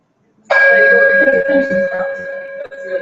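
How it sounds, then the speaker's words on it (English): A single meditation bell is struck once to invite people to sit, ringing out loud and close with a clear sustained tone that slowly decays over a few seconds. "now let's invite people with the bell"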